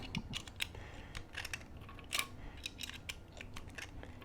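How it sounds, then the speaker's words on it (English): Blue snap caps are loaded into a Taurus G2C/G3C pistol magazine with a mag loader, making a string of sharp, close clicks and plastic snaps at an uneven pace, fairly quiet and with no talk. "get my trusty mag loader and load this up with some rounds here"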